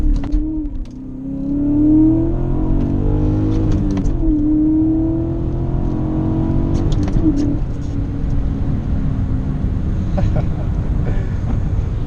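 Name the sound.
BMW E39 M5 V8 engine accelerating in rain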